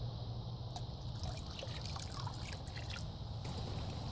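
Liquid kelp fertilizer and fish emulsion pour into a garden mix as a soft, steady trickle, faint and close, with light splashy flickers throughout.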